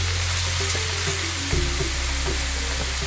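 Onions fry on a high flame, a steady sizzle as they are tossed in a kadai, with a low hum underneath and no talk.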